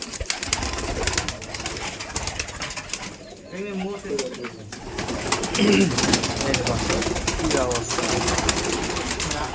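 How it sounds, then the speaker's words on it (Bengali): Giribaz high-flyer pigeons coo at a pigeon farm, low murmuring calls heard near and far beneath people talking, with background rustle and noise. "দর্শক দেখতে পাচ্ছেন যে লতিফের খামারে অনেক সুন্দর সুন্দর কবুতর"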